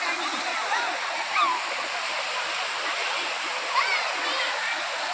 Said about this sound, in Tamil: தண்ணி மேலே வந்துட்டுருக்கு மழை பெஞ்சிருக்கு அதனால் தண்ணி வருது